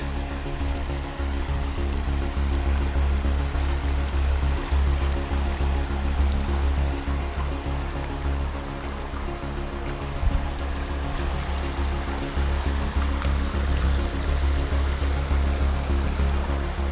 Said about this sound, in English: river crossing number two